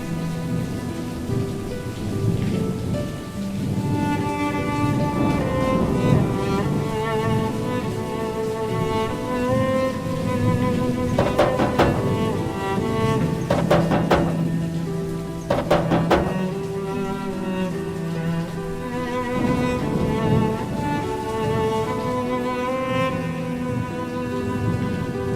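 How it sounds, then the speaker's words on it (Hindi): Heavy rain pours steadily and loudly throughout, with a few crackling thunder rumbles midway, and no voices. "इतनी बारिश भी अभी होना थी।"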